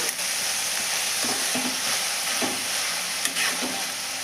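Amaranth stems fry in a pan over a low flame, giving a steady, close sizzle with a few soft stirring scrapes and no voices.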